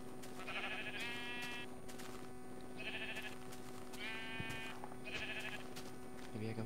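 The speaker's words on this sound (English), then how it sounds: "Is that another sheep?" Sheep in Minecraft bleat several times in short repeated calls over a steady droning game soundtrack, moderately loud and close.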